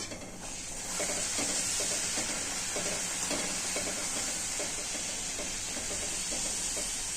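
Puris frying in hot oil, a loud, dense sizzle with steamy hiss that swells after the first second and holds steady, bubbling close up with no talking.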